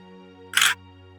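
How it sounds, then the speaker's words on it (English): A single camera shutter sound effect, a short crisp click-burst of about a quarter second standing out loudly over a quiet steady hum. "Camera shutter."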